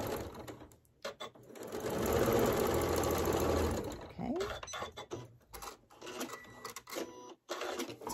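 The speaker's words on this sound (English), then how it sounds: "My sewing machine doesn't seem to be loving this thread that I'm using." A sewing machine stitches a quilt block for a Martha Washington star in a fast, steady mechanical whirr of a few seconds, followed by scattered clicks and handling noises, with someone speaking.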